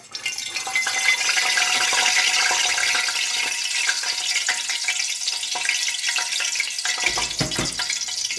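Frying oil sizzling in a saucepan, a steady crackling hiss that runs loud and close throughout, briefly joined near the end by a low rumbling stir.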